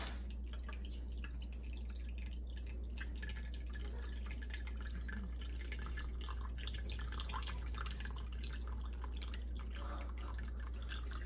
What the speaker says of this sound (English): You're just going to want to squeeze out the juice.